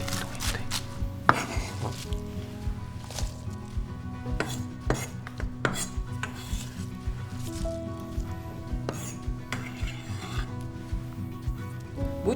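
A knife chops green onions (jjokpa) into roughly 2 cm lengths on a cutting board for kkakdugi, making a steady run of close, crisp taps with occasional louder knocks and no talking.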